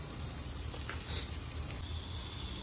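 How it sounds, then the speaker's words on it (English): Butter sizzling in a pan while redfish on the half shell cooks, a soft, steady frying hiss with faint crackles, quiet and continuous. "Man, I know y'all hear that sizzle."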